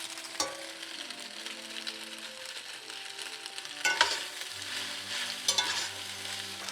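Macaroni fries in butter in a pan with a steady soft sizzle, while a utensil scrapes and stirs it in a few distinct bursts, close up and with no talking.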